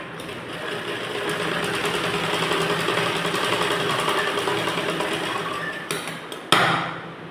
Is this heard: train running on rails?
no